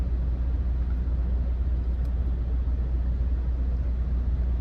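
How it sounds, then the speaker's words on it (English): A truck's idling engine gives a steady, close low rumble with a constant drone and no change in pace throughout. "audio might be weird right now because the truck is on."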